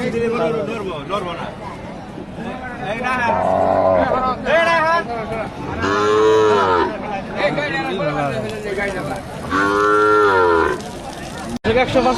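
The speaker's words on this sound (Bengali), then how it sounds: "হলিস্টিয়ান ফ্রিজিয়ান একটা বকনা দেখতেছি আমরা ভাই" A Holstein Friesian heifer moos several times, long deep calls close by, amid continuous talking and crowd chatter at a cattle market.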